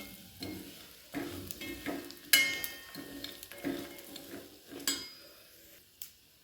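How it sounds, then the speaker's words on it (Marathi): Soft scraping and stirring of crushed peanuts in a pan, with light crackles and a few sharper clinks of a spoon against metal, fairly quiet and close. "आपण शेंगदाण्याचं कूट घालून घेऊ छान परतून घेऊ"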